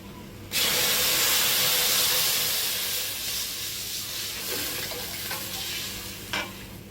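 Water poured into a hot pan of browned fish and onions sets off a sudden loud hiss and steamy sizzle that slowly settles into a steady bubbling fry, with a brief clink near the end.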